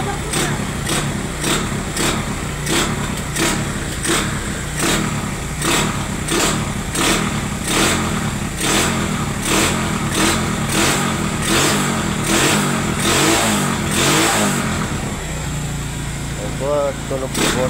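Honda Wave 125 motorcycle engine revving close by, with a steady rough throb that surges in repeated rhythmic bursts, rising to a louder rev near the end while someone talks over it.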